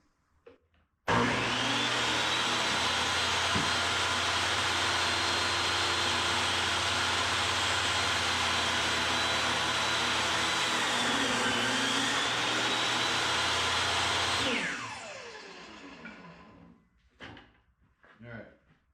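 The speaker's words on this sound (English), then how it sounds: "I'm gonna cut the wedge for the bottom out of a 2x4 using my miter" A miter saw cuts a wedge from a 2x4 for a bird feeder, a loud steady motor whine running for about thirteen seconds before spinning down, with light knocks afterward.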